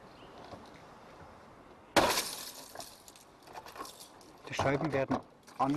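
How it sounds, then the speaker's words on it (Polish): A center punch breaks a car window on a vehicle lying on its side, giving a sudden sharp shatter followed by tinkling glass falling and later more crunching, scraping glass sounds. "Szyby wybijamy punktakiem, a szkło spada w dół."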